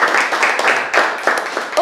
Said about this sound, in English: let us appreciate ourselves for the wonderful work we've done this evening with a round of applause